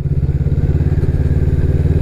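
A Honda CMX 500 Rebel pulls smoothly in fourth gear, its deep, evenly pulsing engine thump loud and close.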